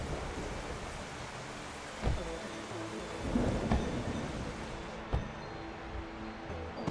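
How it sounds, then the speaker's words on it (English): Rain and thunder ambience in the video game Nikoderiko: a steady soft rain hiss broken by a few sharp thunder cracks and a rolling rumble, fairly quiet overall. "Rain."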